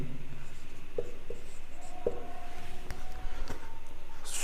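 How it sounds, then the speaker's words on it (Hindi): Handwriting on paper: a pen or chalk scratching out dates and figures for a Hindu almanac sunrise table, with faint scratchy strokes and a few light taps over a steady low room hiss, no talking. "यहाँ लिखता हूँ मैं"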